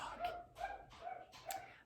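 A dog barks four times in an even rhythm, each bark short and a little whiny. The barks sound fairly faint and distant, with no talking.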